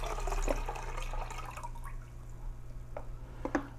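Rinse water is poured out of a film developing tank into a sink, a close trickling and splashing with faint drips, over a steady low hum.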